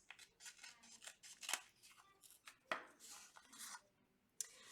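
Scissors snip through a folded paper strip in a quiet room, a run of close, crisp cuts with sharp sliding blade clicks and short pauses between them.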